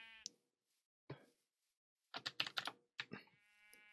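Sheep bleating in Minecraft, heard as several short, clipped synthetic bleats separated by silences, the middle group a rapid cluster of four or five calls, fairly close and clean with no talking.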